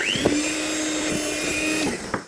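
An electric mixer whirs steadily through cake batter for a wet cake, a close, continuous motor whine holding level for about two seconds with faint knocks of the beaters against the bowl.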